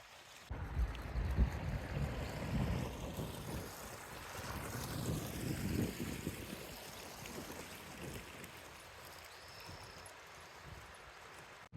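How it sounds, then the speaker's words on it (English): Wind blows outdoors in Markleeville, Alpine County, California, rumbling and buffeting against the microphone in gusts that are strongest early on and then ease into a softer steady rush. "It's a little windy, but it's still nice."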